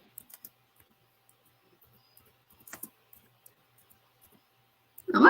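Sparse, faint keyboard taps while someone types out a quick message, a few scattered clicks in near silence before a louder noise bursts in at the end.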